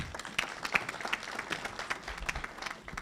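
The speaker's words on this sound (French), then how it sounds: "Sous vos applaudissements, s'il vous plaît." Scattered applause at a formal ceremony honouring partners of a law fair, fairly faint and thin, with individual claps audible in an uneven rhythm rather than a full dense roar.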